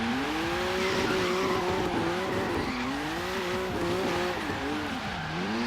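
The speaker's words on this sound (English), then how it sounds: "It already sounds nice when you go doing burnouts with it." Car doing a burnout in Forza Horizon 3, a loud, sustained tyre squeal whose pitch wavers continuously over a droning engine, close and unbroken for the whole stretch.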